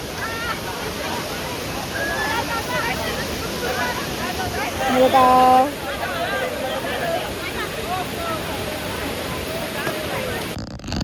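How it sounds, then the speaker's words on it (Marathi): A waterfall at a dam roars as a broad, steady rush throughout, with people talking over it and a brief louder burst midway. "धबधबा दाखवते."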